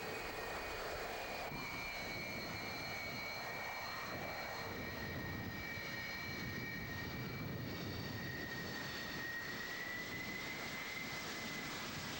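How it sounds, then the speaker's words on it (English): A steady Antonov aircraft engine drone fills the whole stretch as it lands, a constant roar with a thin high whine riding on top, no voices. "I bet you've never seen an Antonov land on top of a bus."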